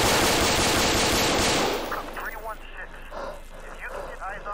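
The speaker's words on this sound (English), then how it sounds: "shots fired" A police body camera catches a loud, rapid burst of gunfire at close range, followed by shouting voices and commotion as the shooting stops.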